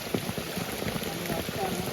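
Heavy rain pours down steadily during a monsoon crab-catching outing, a dense broadband hiss of drops drumming on surfaces close by, continuous and unbroken for the whole stretch.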